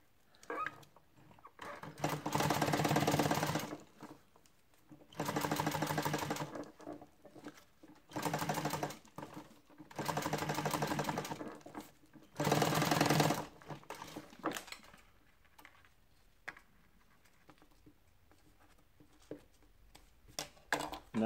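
A sewing machine stitches a CQB patrol pocket in five separate runs of fast, rattling stitching, each a few seconds long, with quiet pauses between and a few soft handling noises near the end.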